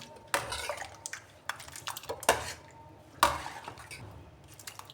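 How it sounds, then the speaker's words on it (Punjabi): A spoon mixes tragacanth gum into custard milk in a bowl, making close, irregular clinks and taps against the dish with soft liquid swishing between them. "ਇਹਦੇ ਵਿੱਚ ਅਸੀਂ 2 ਚਮਚ ਕਤੀਰਾ ਗੂੰਦ ਐਡ ਕਰ ਲਿਆ ਇਹਨੂੰ ਮਿਕਸ ਕਰ ਲਾਂਗੇ"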